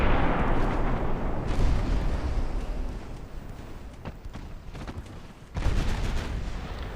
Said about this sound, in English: One more salvo ought to do it.